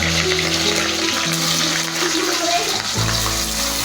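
Onions frying in a pan while cooking mixed vegetables, a steady close hiss and sizzle with faint tonal background hum throughout.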